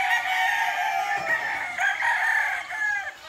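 A Boston Black gamefowl rooster on a farm crows, one drawn-out, fairly loud cock-a-doodle-doo call with a few shorter crowing bursts close by, no talk.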